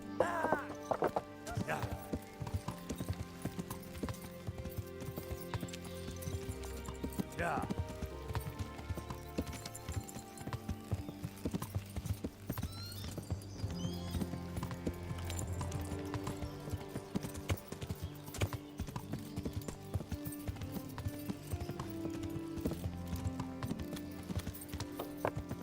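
A horse gallops in the video game Kingdom Come: Deliverance, with a steady, quick clip-clop of hooves throughout and an occasional whinny. Someone talks over the hoofbeats.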